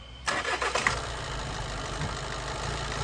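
A Volkswagen Golf engine cranks and catches, misfiring and sputtering unevenly with rough, shaky firing before settling into a loud, uneven idle.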